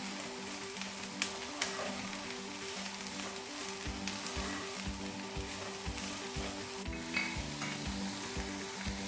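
Finely chopped vegetables frying in a pan for Singaporean rice, a loud continuous sizzle with repeated rhythmic scrapes of stirring, close, with no talking.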